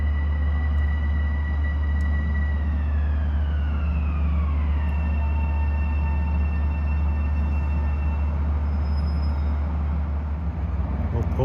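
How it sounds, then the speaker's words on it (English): A Long Island Rail Road train pulls into a Main Line station. A loud, steady low rumble carries a high whine that slides downward as the train slows, heard close and continuously. "As 5:58 from Hunters Point Avenue to Oyster Bay is pulling in."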